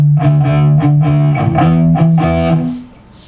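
Electric guitar plays a riff, a chugging D-to-E rhythm pattern with overdriven tone, loud and close, ringing out at the end.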